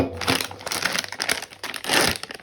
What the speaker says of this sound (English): I'm going to crush up these pecans